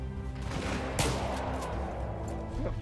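Rapid gunfire from the Battlefield 4 video game crackles in dense, overlapping bursts, with a sharp loud shot near the middle standing out above the steady stream of rattling fire.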